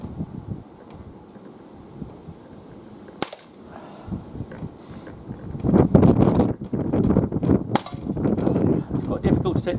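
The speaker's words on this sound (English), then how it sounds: "Take the shots, pop the safety on it." Umarex SA10 CO2 pistol firing outdoors on a windy day: two sharp, loud shots about four seconds apart, over a steady rumble of wind buffeting the microphone, which swells louder in the second half.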